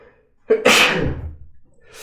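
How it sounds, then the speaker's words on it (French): A single loud, close sneeze from someone with a cold, with a sharp intake of breath just before it, followed by a fading exhale. "je pense que je vais éternuer"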